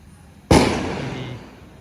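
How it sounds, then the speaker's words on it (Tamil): A single firecracker bursts sharply during Diwali celebrations in a village, a loud close crack followed by a long crackling, fading tail. "இன்றைக்கி பட்டாசு மழையாக இருக்குது இந்த வில்லேஜில்"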